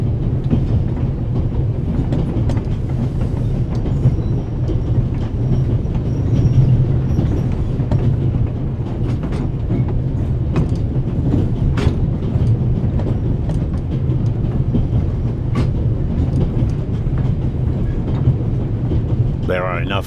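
The interior of a moving train in The Raven video game, with a loud, continuous rumble and clatter of wheels on rails and occasional squeals throughout.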